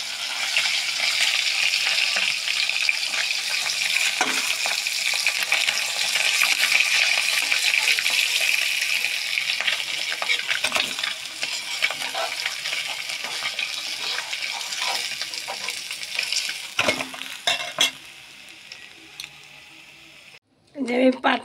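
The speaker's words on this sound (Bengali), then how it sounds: "মাছটা লাল লাল করে ভেজে তুলে নেব" Fish frying red in oil in a wok, a steady close sizzle with occasional scrapes and clinks of stirring, fading near the end as the pan quiets and a few louder knocks break through.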